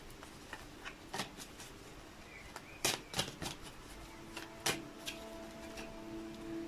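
Heart-Shaped Love Oracle cards by Tony Carmine Solano being shuffled, giving soft scattered riffles and a few sharper card snaps over a faint steady hum, with no voices.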